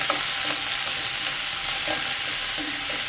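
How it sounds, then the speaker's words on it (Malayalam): White chickpea masala being stirred and roasted in a pan: a loud, steady sizzle runs throughout, with faint scraping strokes of the spoon repeating underneath and no voices. "നന്നായി മിക്സ് ചെയ്ത് കൊടുക്കും ഇതൊന്ന് മൂത്ത് വരട്ടെ"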